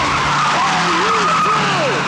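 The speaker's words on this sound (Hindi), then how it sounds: "जरा ब्रेक मारो भाई" A car brakes hard and its tyres skid, giving a loud, sustained screech with wavering squeal tones over a dense roar of engine and road noise throughout.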